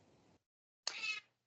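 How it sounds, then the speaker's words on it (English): A house cat meows once, a short bright call close to a home microphone, following a brief stretch of low background sound and a pause. "Sorry that my microphone picks up my cat so much"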